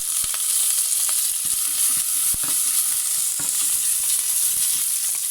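Fennel seeds and curry leaves fry in hot oil for a Jaffna-style brinjal curry, a close, steady crackling sizzle dotted with sharp little pops.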